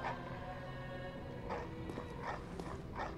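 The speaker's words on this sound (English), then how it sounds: "Oh, we got dogs." Several short dog barks and yips from the video game Bloodborne come in bursts over a steady droning background with layered tonal hum.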